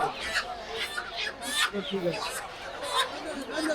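Busy market chatter with several voices talking, and native chickens for sale squawking and clucking intermittently through the crowd noise at a village market in Fatullah, Narayanganj.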